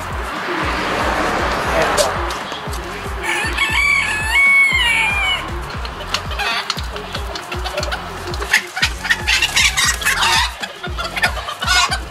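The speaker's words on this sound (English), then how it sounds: "Got all my chickens around watching me do my thing." Chickens cluck repeatedly nearby, with a rooster crowing loudly partway through, over a steady low engine rumble and some background voices.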